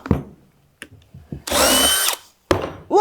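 A power drill with a spade bit bores through cabinet wood in two loud, sustained bursts, the second cut off after a short pause, with scattered knocks and handling clatter before.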